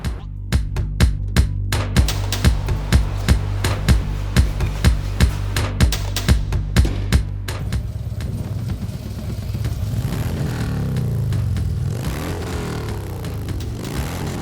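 A small Harley-Davidson chopper motorcycle engine idles with a loud, regular thumping beat that then gives way to a rougher, smoother running drone with rising and falling pitch near the end.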